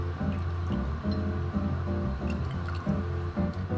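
Suze, a French gentian liqueur, is measured out and poured into a cocktail glass, trickling steadily and close by for several seconds over a continuous background bed.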